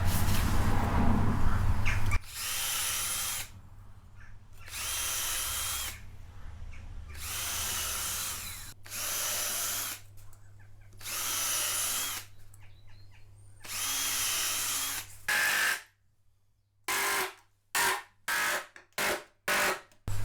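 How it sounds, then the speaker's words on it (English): A power drill whirs in repeated bursts as it bores pilot holes into timber, long runs then short quick pulses, close and loud, with no talking. "I'm going to drill pilot holes for attaching these"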